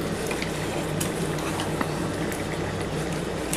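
Chicken being stir-fried in a pan for chicken dak bungalow, giving a steady, dense sizzle with faint scraping of a spatula throughout, close and even in loudness.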